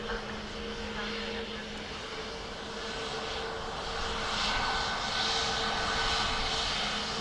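An airplane landing on runway 28 left at Dublin Airport gives a steady, moderately loud engine roar from some distance, swelling slightly toward the end.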